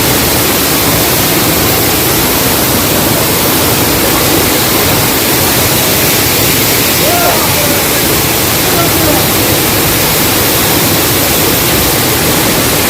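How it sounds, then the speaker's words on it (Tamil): Water crashes down steadily at Kumbhavurutty waterfall in Achankovil, Kerala, a loud, dense, unbroken roar filling the whole scene from close range. "ஃபால்ஸ்லாம் நல்லா தண்ணி விழுது"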